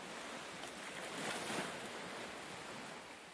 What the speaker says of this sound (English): the sound of waves gently crashing against the rocks soothes your mind